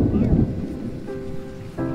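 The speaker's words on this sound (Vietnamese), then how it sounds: "sấm chớp đùng đùng các bạn" Deep, loud thunder rumbles through a night rainstorm over rice fields in rural Vietnam, strongest at the start and then rolling on under steady rain, with a faint tonal sound rising near the end.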